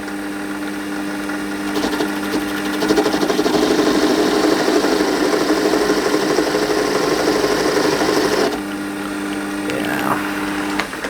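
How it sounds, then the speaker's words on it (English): A lathe turns a model steam engine chimney, a steady machine whir that rises in the middle and cuts off sharply near the end, then resumes softly. "we're going to run it up and use the bump tool to make sure that it's running fairly true"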